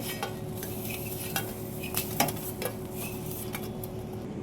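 Roasted pointed gourds lifted one by one from a pan, soft sizzle underneath with a few light clinks and scrapes of a utensil against the metal, quiet and close.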